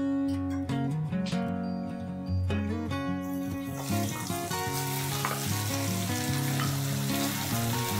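Moong dal goes into hot oil with browned onions and sets off a bright, hissing sizzle that swells midway, partly masked by steady background music.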